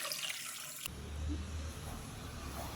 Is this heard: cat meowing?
no